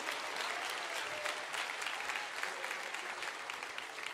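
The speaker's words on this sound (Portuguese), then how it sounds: "Pode aplaudir." A church congregation at a service bursts into sustained applause, a dense wash of clapping that holds steady, faint and distant-sounding.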